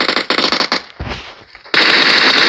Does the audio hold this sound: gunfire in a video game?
yes